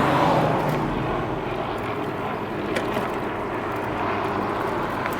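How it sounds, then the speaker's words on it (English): Low engine drone of a helicopter passing overhead, steady and moderately loud with a broad rumbling wash. "Got a helicopter up on my right up ahead, above me"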